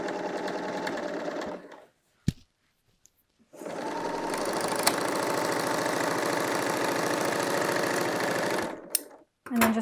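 A BERNINA L 890 sewing machine backstitching over a seam on a knit top, a steady rapid stitching hum that stops briefly, then runs again for several seconds with a few clicks around it.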